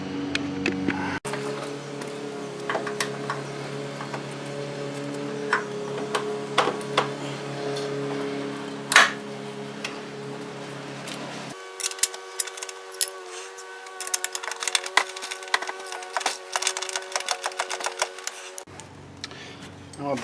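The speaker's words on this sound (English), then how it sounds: "Now with that bolt tightened down," A bolt on the battery hold-down clamp of a Chrysler 200 is tightened during a battery change, giving long runs of rapid, light ratchet-like clicking over a steady background hum.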